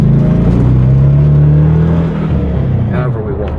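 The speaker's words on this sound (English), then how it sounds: "I want to show you how it drives and shifts" A C4 Corvette with C6 wheels and targa top accelerates on a road, its engine note rising loudly as it revs, then dropping at a gear shift before climbing again, close to the microphone.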